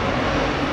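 Frontier Airlines airliner passing overhead near DFW, a steady broadband engine roar that fills the whole moment at constant loudness, heard from a hotel room with no talking.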